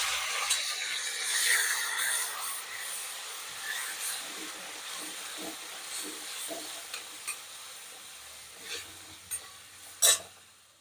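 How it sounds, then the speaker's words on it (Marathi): Onion and garlic with asafoetida sautéing in a pan for a spicy Maharashtrian vaatan masala gravy, a steady soft sizzle with scraping stirring strokes throughout and a sharper clatter near the end. "लसूण टाकला हे सर्व परतून घ्यायचं कांदा टाकायचा"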